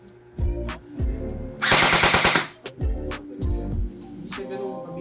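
An E&C EC211 HK416 airsoft rifle with helical gears fires a single loud full-auto burst of rapid, evenly spaced shots lasting about a second, framed by shorter clicks and mechanical handling noises.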